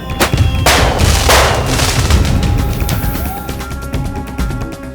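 Loud, rapid fireworks bangs and crackles burst in dense succession at night in a village, booming close by with a continuous rumbling roar underneath.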